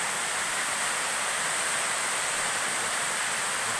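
Steady, even roar of a jungle waterfall in West Sumatra, a dense broadband rush of falling water that fills the whole clip without pause or voices.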